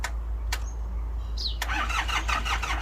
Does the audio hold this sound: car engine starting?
yes